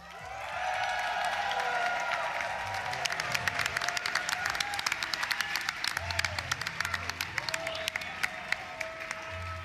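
A crowd at Summer Games Done Quick 2018 applauds and cheers, with dense clapping that thins into scattered claps while a voice talks over it.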